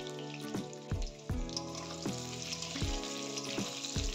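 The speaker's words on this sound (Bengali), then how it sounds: "আমি এখানে হালকা আঁচে আলুগুলো ভাজবো। চাপা দিয়ে ভাজবো, যাতে ভাজতে ভাজতেই অল্প সিদ্ধ হয়ে যায়।" Potato pieces fry over low heat in a covered pan, a steady soft sizzle broken by occasional sharp crackles and pops, close and alone with no talking.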